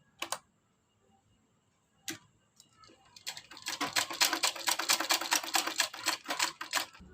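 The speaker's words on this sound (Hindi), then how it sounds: "अब हम इसको किनारे किनारे से भी इस तरह से कर लेते हैं, एक और सिलाई लगा लेते हैं इस तरह बिल्कुल बराबर से" Sewing machine stitching a second line along the edge of a kurti neck: a couple of isolated clicks, then a steady, rapid mechanical rattle of stitches running close by with no talking.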